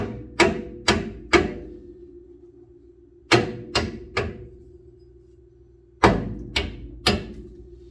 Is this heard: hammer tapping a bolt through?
yes